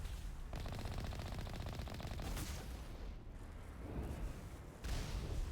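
Dense, rapid gunfire from the video game Mass Effect rattles in sustained automatic bursts with heavy booming impacts, loud and continuous throughout with only a brief dip near the middle.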